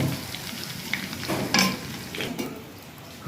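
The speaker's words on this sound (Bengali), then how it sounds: "ফোড়ন কমপ্লিট, হালকা হালকা করে ভাজা হয়েছে।" Spices and ginger paste frying in hot oil as the tempering for khichuri, a close, continuous sizzle with stirring scrapes and a few sharper spatters.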